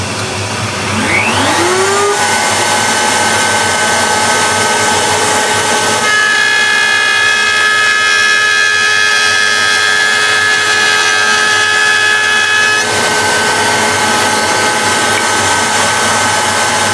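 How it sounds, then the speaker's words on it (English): A router cutter is driven through a sliding dovetail cut in wood: a loud, steady high whine spins up, then holds as a droning cut for over ten seconds before easing slightly, close by and without speech. "that's what I'm going to use just to drive this cutter through the cut"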